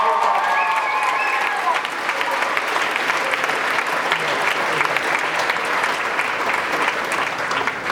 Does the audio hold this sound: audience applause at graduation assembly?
yes